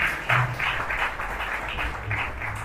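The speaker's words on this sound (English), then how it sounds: "Let's give him a round of applause." An audience at a Nigerian youth entrepreneurship and civic awareness event applauds, with a steady wash of clapping at moderate volume that holds throughout and has a slight distant, roomy quality.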